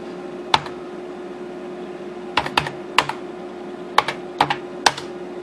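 Sharp keyboard key presses on a Pentium D computer entering BIOS setup tap out in sparse clusters over a steady low hum, with single clicks and quick double taps spread across the stretch.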